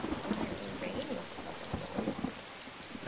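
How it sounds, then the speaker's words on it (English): Steady rain pours down in the DayZ survival zombie game, a continuous hiss with a few low thunder-like thumps and patters, loud and close with no talk. "Yeah, it's raining right now,"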